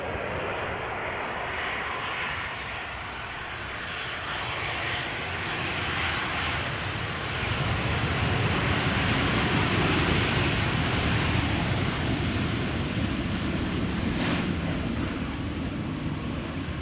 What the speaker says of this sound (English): Up next, Boeing 737-900 arriving from Tel Aviv, El Al flight